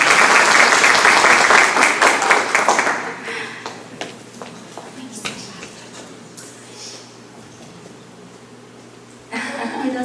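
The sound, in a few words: audience applause at a seminar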